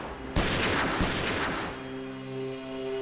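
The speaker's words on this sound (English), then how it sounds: "Suddenly, he hears gunshots." Two heavy gunshot blasts boom out about half a second apart at a clothing store, each trailing into a long reverberant tail, followed by a low sustained hum.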